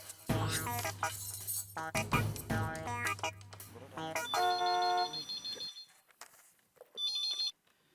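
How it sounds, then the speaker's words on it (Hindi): A phone rings in a few electronic bursts near the end, following busy music and sound effects. "नंटू काका को फोन करके कहती हूँ कि वो लगातार झुमरू बाबा को फोन करते रहा।"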